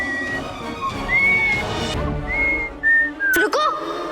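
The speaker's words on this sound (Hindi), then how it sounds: "सीटी कौन बजा रहा है?" Someone whistling a series of short, clear tonal notes, some held and some sliding, in a TV drama scene, with a sharp knock-like burst near the end and faint background noise.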